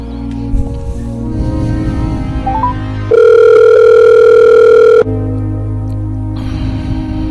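Telephone call audio: a steady dial tone and call tones in loud, continuous blocks with brief gaps between, no talk.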